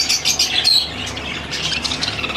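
Caged birds squawk and chirp in a loud, busy cluster at a bird market in Multan, with sharp calls overlapping throughout and no talk.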